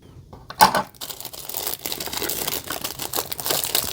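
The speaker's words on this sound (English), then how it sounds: "And let me just use my scissors here." Scissors cutting open a paper stamp package, a sharp crinkling snip near the start followed by steady rustling and crinkling of paper and packaging, close and moderately loud.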